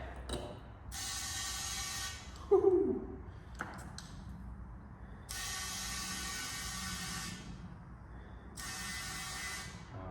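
An air pump hisses in three long bursts while inflating the tyres of a Honda off-road buggy, each burst separated by pauses, with a brief clunk and rattle of the fitting in between.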